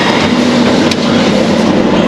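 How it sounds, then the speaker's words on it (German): A train rolls past at close range, a loud, constant rumble with rail noise and faint clatter that stays unbroken the whole time. "Zug."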